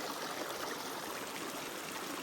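Water pours steadily from the Chandi Dhara, a village water spout in rural Dipsa, Bhojpur, making a continuous close, bright rushing splash with no pauses and no voices.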